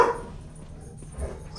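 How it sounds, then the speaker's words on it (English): Household dogs, one named Cooper, barking and yipping in the background of a room, a few muffled barks under a steady low hum with no talk. "the dogs are being a little loud there in the background"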